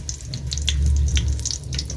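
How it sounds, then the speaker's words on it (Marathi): Eggplant, potato and peas sizzle as they are tempered in a pan in a village kitchen, a steady frying hiss with sharp crackles and pops throughout. "या साईडला तर भाजी फोडणीला देते."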